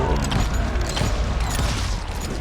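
Gunfire in the western shooter Call of Juarez: Gunslinger, a dense, continuous barrage of loud booming shots and mechanical clatter packed close together with no pauses, without talk.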